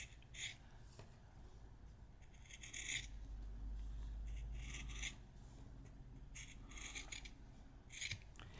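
Scissors snip along the line of a paper piecing template, quiet repeated rasping cuts with short pauses between strokes, close and faint.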